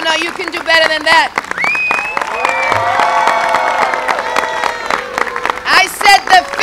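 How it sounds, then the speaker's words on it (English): An audience applauds and cheers for Governor Andrew Cuomo at a bus tour kickoff event for a red flag gun protection bill, with loud, sustained clapping and voices calling out throughout. "A round of applause."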